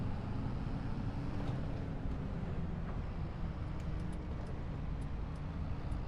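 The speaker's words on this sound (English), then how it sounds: "This tractor, I've said it many times, sounds delightful in reverse." A tractor reversing in a farming video game on a small orchard farm, giving a steady low engine rumble that holds at an even level throughout with no talk.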